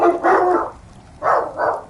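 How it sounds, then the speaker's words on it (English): Dogs bark in two close, loud bursts: a longer run of barks, a short pause, then two more sharp barks, with no talking. "My dogs are barking."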